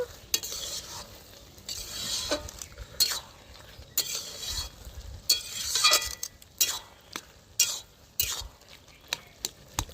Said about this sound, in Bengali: এবার ভালো করে জিরেটাও ভালো করে মাখিয়ে একদম মিক্স করে নেব।